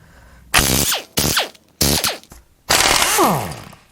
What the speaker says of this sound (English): Let's get these head bolts shot out here.